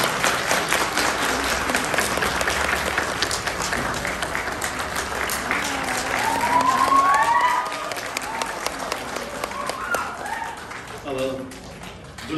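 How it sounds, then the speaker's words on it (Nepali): Wedding guests clap during the ring exchange at a Christian church ceremony, a steady wash of applause running the whole stretch with voices and faint tones mixed in. "हामी सबैले ताली बजाउनेछौँ।"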